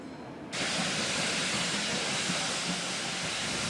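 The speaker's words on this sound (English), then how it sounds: "This switcher is a tank-type locomotive being used to haul a dining train south known as the Moorlander." A Great Western tank-type steam locomotive hauling the Moorlander dining train releases a sudden loud burst of steam that becomes a sustained, even hiss with underlying rail rumble, close by and continuing to the end.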